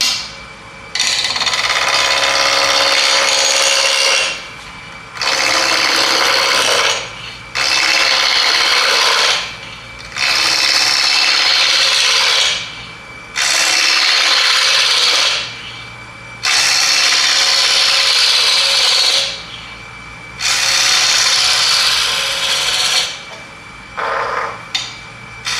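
A wood spindle spins on a lathe as a sharpened gouge cuts it, giving loud scraping, rasping bursts of several seconds each, separated by brief pauses as the tool lifts off, with a steady low motor hum underneath.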